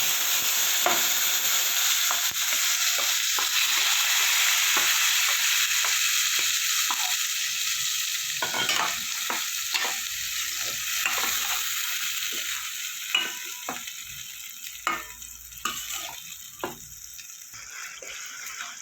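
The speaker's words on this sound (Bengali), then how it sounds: "তারপরে দিয়ে দেবো এই যে পেস্টটা করেছিলাম পেঁয়াজের, এই পেস্টটা দিয়ে দেবো" Onion paste frying in oil with whole cumin and dried red chilli, a steady loud sizzle that runs throughout while a spoon stirs and scrapes the pan, the scrapes growing more distinct toward the end.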